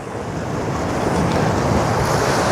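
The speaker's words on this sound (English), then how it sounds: "Open your eyes for the water noise, the waves hitting." Sea waves roll onto the shore of the Westerschelde estuary in the Netherlands, a dense, continuous wash of surf with wind rumble buffeting the microphone, loud and close with no voices.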